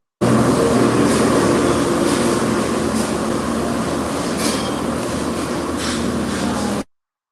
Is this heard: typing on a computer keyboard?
no